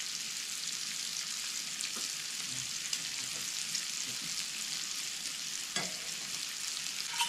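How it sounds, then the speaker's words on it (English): Walnuts toast with a little honey in a hot pan on the stove, giving a steady, even sizzle and frying hiss throughout with faint stirring clicks and scrapes, no voices. "I'm going to toast some walnuts. A little bit of honey in here."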